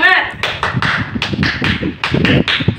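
A class does a 'tepuk semangat' cheer, a group of children clapping in a quick rhythmic pattern of claps and taps while voices chant along.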